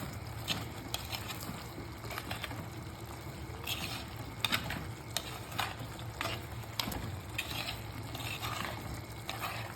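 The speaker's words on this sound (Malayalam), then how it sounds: "ഓക്കെ, നമ്മൾ നല്ലതുപോലെ ഇളക്കി കൊടുക്കണം" Chicken fry coated in a ground dried red chilli and coriander masala is stirred in a frying pan, with a constant sizzle under repeated close scraping strokes of a spatula.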